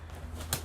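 A pet bird coos softly with a brief low call near the end, faint against a steady background hum.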